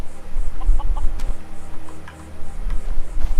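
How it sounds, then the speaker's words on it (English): Chickens clucking in the video game Skyrim, a run of short close clucks and squawks repeating over steady low game ambience, with no talk. "If I had known those chickens were there"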